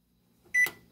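A microwave oven heating a Totino's party pizza gives a single short, sharp beep after near silence, then a faint low hum.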